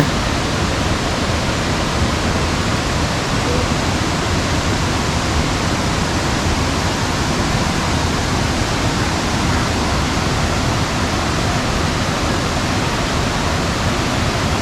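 Steady, loud rush of falling water from the third tier of Huai Mae Khamin waterfall in Khuean Srinagarindra National Park, Kanchanaburi, a continuous broadband roar that stays even throughout with no voices.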